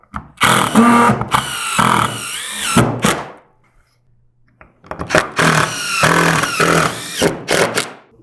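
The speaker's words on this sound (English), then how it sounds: "Because the screw's fluted, and you just run it right into the wall." A power drill drives a screw in two long, whining bursts with a brief quiet pause between, the motor pitch shifting as the screw bites in.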